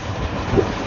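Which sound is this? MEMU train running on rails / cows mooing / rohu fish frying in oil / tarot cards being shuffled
MEMU train running on rails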